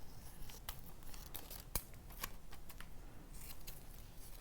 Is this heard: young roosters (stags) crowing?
no